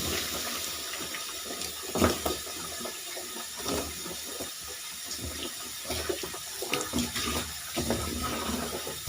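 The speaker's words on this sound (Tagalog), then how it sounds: "banlawan po muna natin yung ating labahin dito" Tap water runs steadily into a basin while laundry is rinsed by hand, with splashes and sloshing bursts over a continuous close flow; no one talks.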